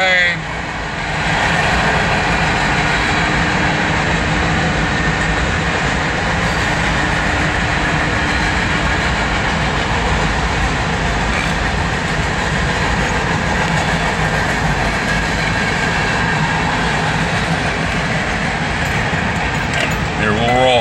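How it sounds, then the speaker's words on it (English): A loud freight train of tank cars passes close by on the railroad track, a dense sustained roar with rattling wheel clatter that holds at full strength the whole way through. "It's a loud train."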